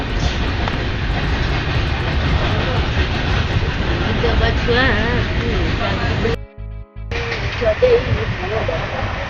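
A passing train rumbles loudly and steadily, with rail clatter and a brief dropout partway through, while people talk over it throughout.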